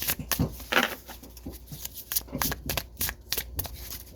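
Cards being shuffled by hand: quick, crisp riffles and sharp papery slaps in irregular bursts, close and clear, with no voice.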